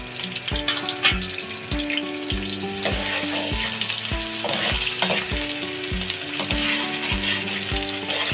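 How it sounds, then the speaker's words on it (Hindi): Chopped medium-sized onion fries in hot oil in a kadai, giving a steady, close sizzle throughout with occasional stirring and background music underneath. "एक मीडियम साइज़ का मैंने प्याज काट के रखा हुआ है, वो ऑयल के अंदर हम डाल के ना इसको फ्राई कर लेंगे"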